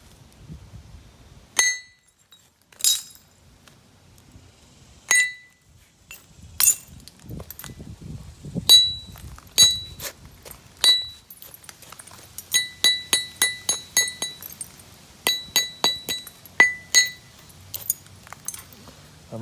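Direct percussion knapping of a huge Georgetown flint nodule still coated in chalk: sharp, ringing glassy clinks struck one at a time, then in quick bursts of rapid taps, close and clear.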